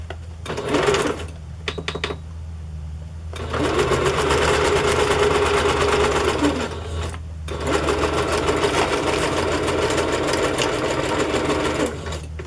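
A sewing machine stitches through a handmade Christmas journal, running in a short burst, pausing, then sewing steadily in two long loud runs with a brief stop between, close and with no voices.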